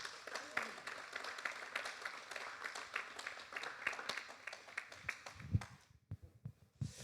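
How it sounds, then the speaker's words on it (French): An audience applauds speaker Victor Macha as he is introduced, a mid-distance patter of many hands that runs for several seconds, then thins to a few scattered claps before stopping. "Vos applaudissements, s'il vous plaît, pour Victor Macha."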